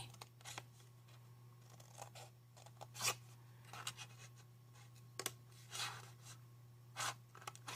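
Scissors snip scrapbooking paper squares in short, quiet, close cuts, irregular single snips and quick bursts against a faint steady hum, with no speech.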